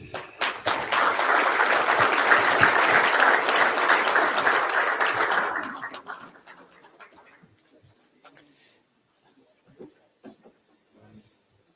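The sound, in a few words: applause at a banquet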